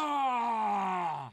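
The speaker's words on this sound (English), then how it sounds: "grunt sounds like this, and also shouts" A male game character's grunt, a single strained vocal groan lasting over a second with a slowly falling pitch, loud and close, with no other sound.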